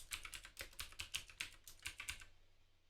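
Rapid bursts of keystrokes on a computer keyboard as a Linux terminal command is entered, about a dozen close, crisp taps in an uneven rhythm, heard alone before fading to quiet.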